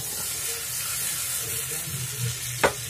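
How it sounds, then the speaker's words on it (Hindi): Stuffed eggplant sizzles steadily in hot oil in a pan, loud and close, with a few soft scraping stirs and a sharp clink near the end. "इसको डालने के बाद थोड़ा थोड़ा हिला देंगे इसको, ताकि तेल सब में लग जाए अच्छे से।"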